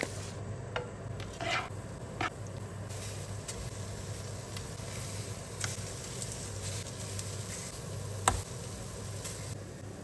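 A flour-dusted chicken fillet fries in a pan. It makes a faint, steady sizzle with scattered small ticks and pops and a couple of soft utensil clinks.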